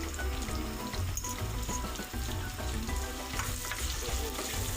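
Plenty of sliced onions frying in a pan for a country chicken gravy, a dense continuous sizzle and crackle, close and steady, with no talking.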